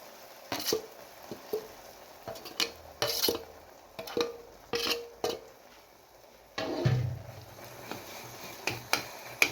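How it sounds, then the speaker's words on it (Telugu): Pounded red chilli paste for pickle stirred in oil, heard as irregular spoon clinks and taps against the pot along with soft wet squishing, close up with no voices. "నూనె బయటకు వచ్చే వరకు కొంచెం కలుపుకోవాలి"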